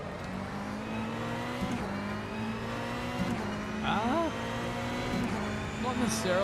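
Simulated race car engine in rFactor 2 during a 3-hour endurance race at Spa, droning steadily with gear shifts and a rising rev toward the end, with people talking over it throughout.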